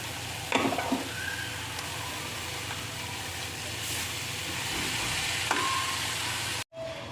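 Chopped moringa leaves tossed into a hot tempering with turmeric sizzle and fry steadily, with a brief burst of stirring near the start and a sudden cut near the end.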